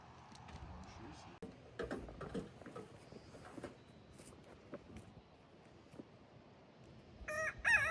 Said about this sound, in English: Let's go to the chicken.